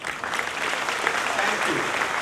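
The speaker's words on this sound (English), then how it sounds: "Now let's give a round of applause to all of them." An audience at an IIT Roorkee convocation breaks into sustained applause, a dense, steady clatter of many hands clapping throughout.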